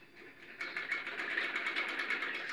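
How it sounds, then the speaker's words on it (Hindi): A sewing machine stitches clothing at home, a trouser and shirt for a suit, starting up softly and then running in a steady fast rhythmic whir at moderate volume with no talk over it. "मैं कपड़े स्टिच सिलाई कर रही हूँ"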